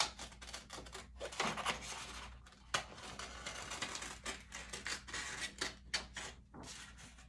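Close, quiet snipping of scissors cutting a leaf shape out of paper, a busy run of short crisp cuts and rustles in irregular rhythm.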